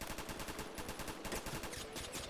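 Rapid automatic gunfire in the Roblox shooter Phantom Forces, a SCAR-H among the weapons, crackling in dense bursts with near and distant shots overlapping throughout.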